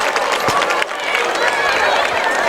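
Crowd applause and cheering from home fans in the stands at a Portland High varsity football game against Bonny Eagle, a steady dense wash of clapping lasting a few seconds.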